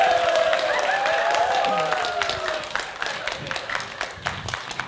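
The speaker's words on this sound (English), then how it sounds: "Once more, we give applause to the speakers and also to the moderator." A conference audience applauds the speakers and moderator, loud close clapping with a few cheers, while a voice or tones carry over the start before the clapping thins out.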